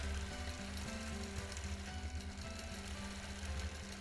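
A sewing machine stitching fabric during free-motion quilting of a meander pattern runs in a steady, fast, continuous hum with a rapid mechanical needle rhythm, close and even throughout, with no talking.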